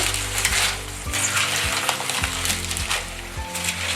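Clams cooking with sausage meat and white wine in a pot, a steady loud sizzle and bubbling boil with faint scraping of stirring, close up and without speech.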